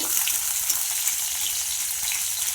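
Garlic fries in hot oil in a pan. The sizzle is loud and steady, with a fine crackling hiss that holds evenly for a couple of seconds, and no one speaks.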